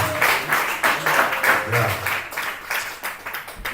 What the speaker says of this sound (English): Put your hands together for yourself.